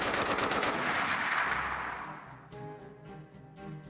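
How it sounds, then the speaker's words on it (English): A Browning Automatic Rifle fires a long sustained burst of booming, rapid automatic gunfire that rings loud and close, then breaks into a few shorter bursts as the echoes trail off. "it has a booming report, and you're throwing a lot of lead out"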